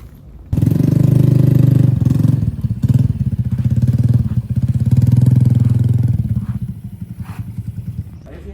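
A motorcycle engine starts abruptly and settles into a loud, near idle with a steady low throb and slight rev variations, fading toward the end.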